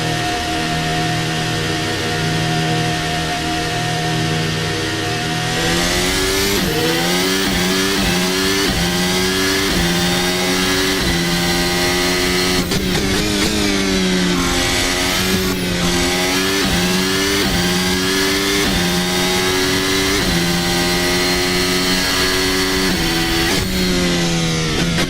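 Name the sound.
Formula Hybrid race car engine in racing video game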